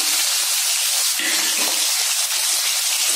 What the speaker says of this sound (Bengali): আমার তেলটা গরমই আছে, আমি এখানে চিড়ে রাখা কাঁচা লঙ্কাগুলো দিয়ে দিচ্ছি, আর দিয়ে দিচ্ছি পেঁয়াজ কুচি